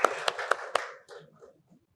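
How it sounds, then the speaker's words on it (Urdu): Four sharp, evenly spaced hand claps close by, followed by a brief faint rustle before silence. "ذرا ایک دفعہ تالی بھی دیا دیں۔"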